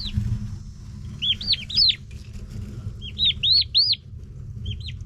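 Baby turkey poults on a small homestead chirp in quick clusters of high, rising peeps, repeating in bursts over a steady low rumble.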